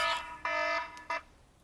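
Loud alarm going off, a series of three harsh electronic buzzing tones, the first two longer and the last short, close and alone.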